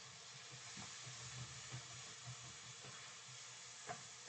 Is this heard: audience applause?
no